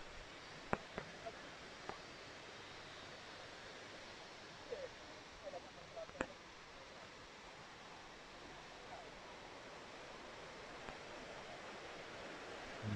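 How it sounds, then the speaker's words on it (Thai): A strongly flowing waterfall at Wang Bua Ban in Doi Suthep-Pui National Park, Thailand, roars as a steady, dense wash of rushing water with a few faint knocks and no clear voices. "ลงมาถ่ายรูปได้เพราะน้ำไหลแรงมากเอง"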